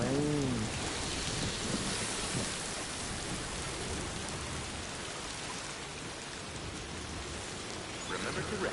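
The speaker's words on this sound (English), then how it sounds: "Starting to rain." Steady rain hisses across the scene in Death Stranding 2, a soft continuous wash with faint rumbling beneath and brief electronic tones at the start and end.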